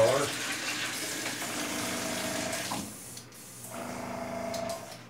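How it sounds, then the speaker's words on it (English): Water from a tap runs steadily as airbrush equipment for custom tackle painting is rinsed out, with a continuous rushing flow that briefly drops away and then resumes nearby. "Back flush it. Bring it over here and rinse it out."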